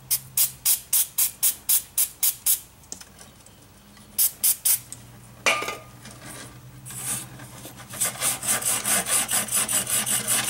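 Aerosol brake cleaner sprayed onto rear brake parts of a 2005 Town & Country in bursts: a rhythmic series of short hissing blasts, a pause, then more spurts and a longer run of rapid sprays, close and fairly loud.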